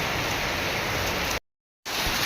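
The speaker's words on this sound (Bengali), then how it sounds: "দেখতেই পাচ্ছ পুরো ফুল বৃষ্টি হচ্ছে।" Steady, dense hiss of heavy rain pouring down, broken by a short moment of total silence before resuming.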